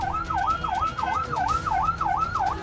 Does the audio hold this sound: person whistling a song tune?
no